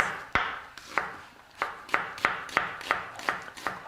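A knife chops an onion into pieces on a cutting board, about ten crisp, evenly spaced strokes in a steady rhythm.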